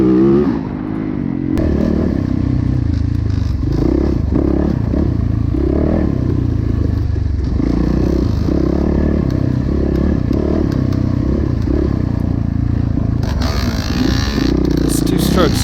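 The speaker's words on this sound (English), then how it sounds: "This two-stroke's not sounding too good, it seems like." A two-stroke racing motorcycle at a mountain-top off-road race runs rough, its engine note sputtering and wavering continuously up close, with a rider's voice talking over much of it.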